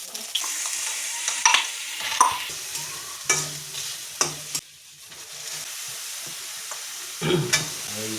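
Spices and bay leaves temper in hot oil for a mixed vegetable dish, a crackling fry under repeated scraping strokes of a spoon against the pan, close and lively, with pauses between stirs and no talk.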